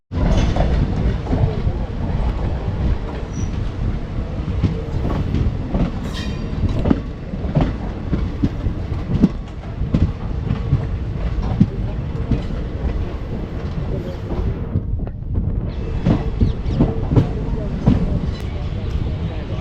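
Begampura Express train rolling into a busy station, steady rumble and clickety-clack of wheels on rails with crowd noise and voices around, close and continuous.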